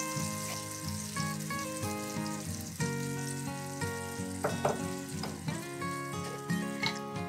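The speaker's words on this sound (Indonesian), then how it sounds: "Aku tumis tadi bumbu yang udah aku blend" A blended spice paste sautéing in a home kitchen pan gives a steady frying sizzle, partly masked by louder tonal background music throughout.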